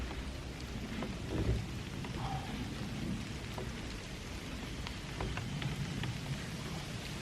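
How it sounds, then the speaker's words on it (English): Rain falls in woodland at a bushcraft tree house site, a dense, steady hiss of drops on leaves and surfaces with scattered sharper patters and a faint low rumble, building slightly over time. "the rain has just started. Getting heavier."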